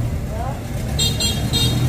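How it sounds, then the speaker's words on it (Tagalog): Short car horn toots sound twice over a low traffic rumble, fairly close, with a voice briefly audible. "Oh, may pabusina-busina pa."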